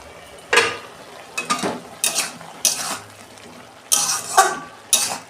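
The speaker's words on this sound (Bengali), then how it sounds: "আমি ঢাকনা খুলছি।" A metal lid on a cooking pot is lifted and handled, giving a series of sharp clanks and scrapes in irregular bursts, close up and with no talking over them.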